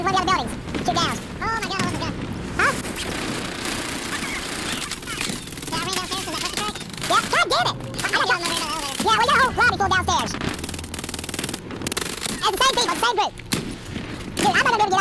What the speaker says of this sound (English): It looks like there's a firefight coming from one of the other buildings.